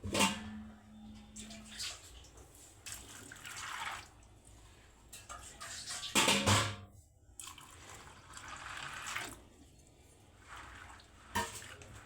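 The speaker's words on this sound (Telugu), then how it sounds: "మంచిగా వాటర్తో కడుక్కోవాలి" Soaked black-eyed peas are washed by hand in water, giving intermittent swishing, sloshing and dripping sounds close by at moderate volume.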